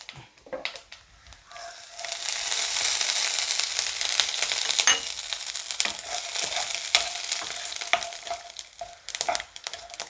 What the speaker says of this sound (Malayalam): ഉലുവ ഒന്ന് മൂത്ത് കഴിയുമ്പം കുറച്ച് കടുകിട്ട് കൊടുക്കാം